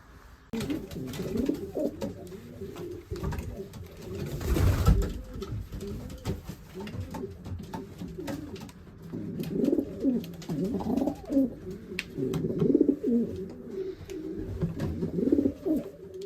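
Racing pigeons coo steadily in a loft, a layered murmur of soft repeated calls near and continuous throughout, with a brief flutter or thump partway through.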